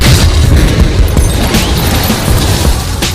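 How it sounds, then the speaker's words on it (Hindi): A bomb blast carried by a suicide attacker at a public garlanding ceremony in 1991 sounds as a loud, sustained roaring boom with crackling debris noise that fills the whole clip without letting up. "It exploded."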